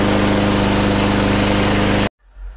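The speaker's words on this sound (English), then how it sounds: "I've put the Yardworks Self-Propelled Mower to the test by cutting this wet, overdue lawn here." A Yardworks self-propelled lawn mower cutting a wet, overdue lawn, its engine droning loud and steady close by for about two seconds before cutting off abruptly to quiet.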